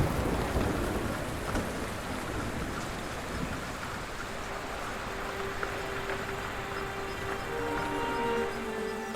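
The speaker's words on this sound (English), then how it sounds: "A grateful relief as the rainfall cools off the rainforest" Heavy rain pours down on a rainforest in a steady, dense hiss that fills the whole stretch, loud and close, with no voices.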